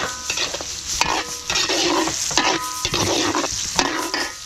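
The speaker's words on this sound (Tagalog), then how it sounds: "papupulayin ko lang yung bawang sibuyas natin, butter" Garlic and onion sauté in butter in a pan for catering, a constant close sizzle broken by repeated bursts of stirring and scraping, with no talk.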